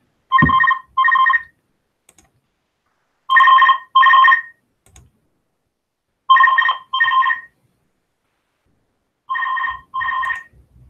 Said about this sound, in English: the bloody phone rings.